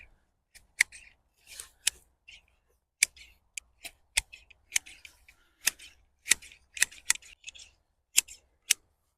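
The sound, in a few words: pruning pine with shears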